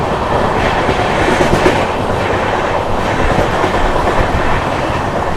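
The Thirukkural Express runs on rails through rain, a loud, dense, continuous rumble of wheels and carriages with faint clickety-clack, close and steady with no voices.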